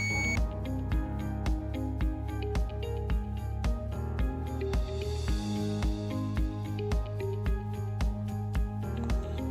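An electronic buzzer in a wired robotics project sounds when its button is pressed, giving a repeating series of short rhythmic beeping tones at moderate, steady volume, with no speech.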